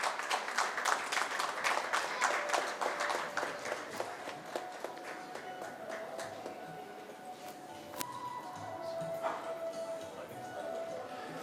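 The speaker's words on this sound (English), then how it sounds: "Big round of applause to our club star." Rotary club installation and awards ceremony, where a crowd applauds a club star: fairly faint, sustained clapping that thins and fades out over several seconds.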